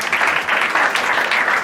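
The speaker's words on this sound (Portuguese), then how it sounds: "E a igreja da linda salva de palmas." Church congregation applauding during a Pentecostal women's festival service in Rocinha, a dense, steady wash of clapping from many hands that fills the short moment without pause.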